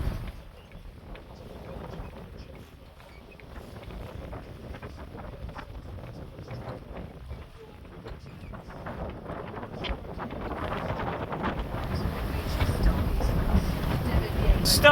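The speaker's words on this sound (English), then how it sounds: "Every time I've tried to get closer, the wind and the elements just push me away." Strong wind buffeting a microphone aboard a sailboat at sea between Tayport and Dunbar, a continuous low rumbling roar that builds toward the end, with faint speech under it.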